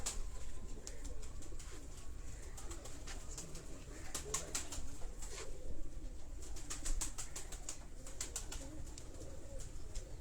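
Urban Teddy pigeons, crossed with another breeder's birds, coo steadily in a Karachi loft, with soft repeated calls alongside scattered sharp clicks and rustling in a busy background.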